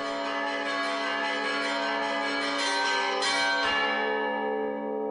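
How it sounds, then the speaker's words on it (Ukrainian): Church bells of Korets Monastery ring steadily and loudly from a three-tier bell tower, their rich overlapping tones sustained throughout before gradually fading out. "Відтоді її дзвони щоразу скликають людей у храм."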